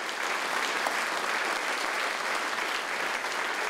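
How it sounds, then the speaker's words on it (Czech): A hall audience gives sustained, even applause for the lecturers and students at a bluegrass workshop. The dense clapping stays steady throughout. "zatleskejme lektorům a všem žákům"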